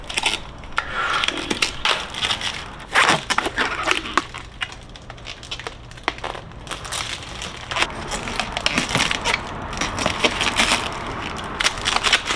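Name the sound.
peeling protective plastic film off an e-bike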